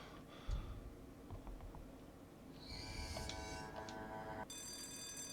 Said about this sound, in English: Hopefully this isn't too loud, because this early alarm can suck.